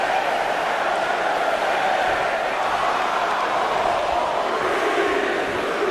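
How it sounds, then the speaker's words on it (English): Arena crowd in the WWE 2K19 video game during a 30-woman Royal Rumble match, a loud, steady roar of cheering that holds unbroken throughout. "Listen to this crowd."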